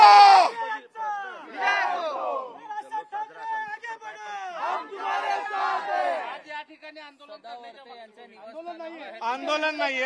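MNS supporters celebrating a victory outside a house, a crowd of many voices shouting and cheering together in overlapping waves, loud and near, with chatter between the shouts.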